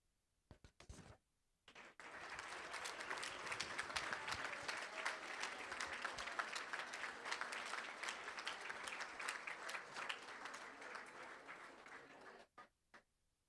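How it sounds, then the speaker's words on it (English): At a school board meeting, the room breaks into warm applause for retiring staff: a few isolated thumps, then a sustained round of many hands clapping for about ten seconds before it tapers off, fairly quiet overall. "Let's give our retirees a big round of applause"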